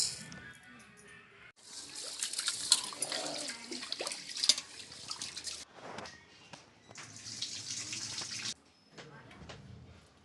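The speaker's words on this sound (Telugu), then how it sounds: "ఈ రైస్ని శుభ్రంగా కడుక్కోవాలి." Hyderabadi biryani rice being washed in water: quiet, intermittent bursts of running and splashing water in a sink, separated by short pauses, with some talk.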